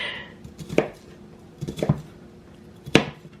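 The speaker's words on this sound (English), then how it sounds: "I'm not the best at chopping," A kitchen knife chops food on a cutting board in three sharp, close strikes spaced about a second apart, with quieter scraping and faint kitchen clatter between them.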